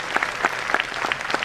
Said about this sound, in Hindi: तो एक बार जोरदार ताली इस इवेंट के लिए आपके लिए।